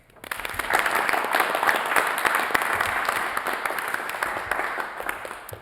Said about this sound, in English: if we could give Owen a round of applause